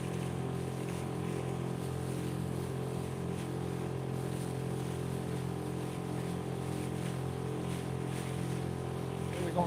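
A motorboat runs wide open at about 12 mph into the wind on Lake Pontchartrain, its engine a steady, close, droning roar that holds unbroken from start to finish.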